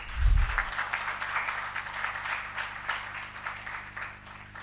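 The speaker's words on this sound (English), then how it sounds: "A great round of applause, please." Audience applause at a cyber security conference inauguration in Delhi during a memento handover, moderate clapping from a seated crowd that holds steady and slowly fades, with a low thump at the start.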